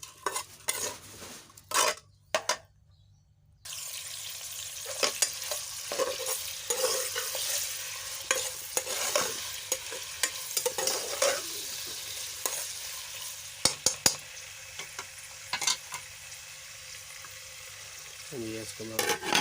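Onions frying in oil in a pan for brinjal bharta, with steady sizzling and repeated scraping stirs of a utensil throughout.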